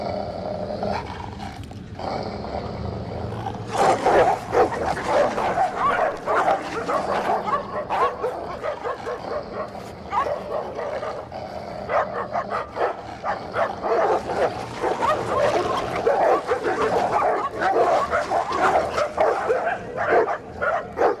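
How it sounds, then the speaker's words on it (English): A Rottweiler and a Pitbull fighting, snarling and barking with growls, yips and whimpers in loud, busy bursts that run through most of the stretch, with faint voices underneath. "The battle for top rank is now between two of the most imposing breeds, the Rottweiler and the Pitbull."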